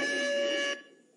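A quiz show buzzer sounds once, a loud steady electronic tone lasting under a second before cutting off abruptly, with no talk over it.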